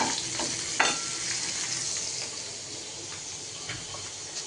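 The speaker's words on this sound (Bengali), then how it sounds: "তো ওই যে মাছটাও আমি ভেজে নিচ্ছি।" Fish frying in a pan for a fish curry with cauliflower and potato, a continuous close crackling sizzle with occasional sharp pops and stirring clicks.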